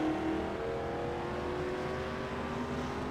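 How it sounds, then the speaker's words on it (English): A race car leaves pit road for a qualifying run, its engine holding a loud, steady, close drone whose pitch rises slowly as it rolls out, with no voices. "Jeremy Edwards in the Tide car rolls off pit road"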